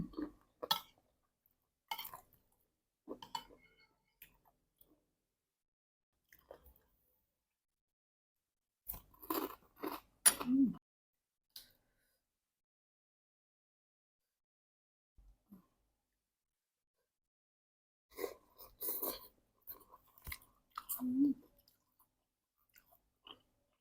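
Someone eats spicy papaya salad with pork rinds, making close, crunchy bursts of chewing and biting in a few short clusters separated by long quiet gaps.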